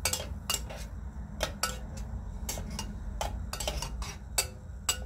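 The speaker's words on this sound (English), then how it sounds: "Keep on stirring." Tea with green cardamom stirred in a pot, heard as a quiet series of light metallic clinks and taps of a spoon against the pot over a low steady hum.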